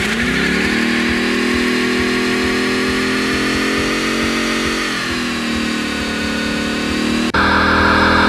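A 2015 Ford Mustang GT V8 revs hard and steady at a launch-control start, a loud sustained engine roar held for several seconds before the pitch jumps sharply near the end.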